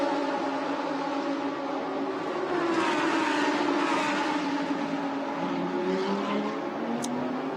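Lamborghini Super Trofeo race cars at Fuji in a 2019 Asia series race roar past steadily, several engines layered with shifting pitch sweeps from changing revs, loud and continuous throughout.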